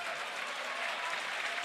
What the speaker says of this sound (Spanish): La grada aplaude a los jugadores.